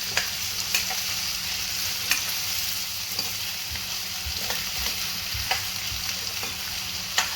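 Bottle gourd frying in hot groundnut oil as it is stirred in a pan, a steady close sizzle broken by periodic scraping strokes of a spoon, with no voices.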